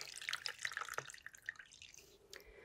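Water drips and trickles from a wrung-out face cloth into a bowl, a quick patter of small splashes close by that thins to sparse drops, quiet and alone.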